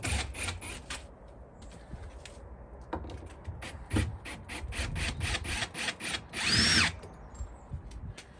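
A power drill whirs in repeated short bursts, loosening the screws on a gate hinge, with one longer, louder run near the end, close up and with no talk.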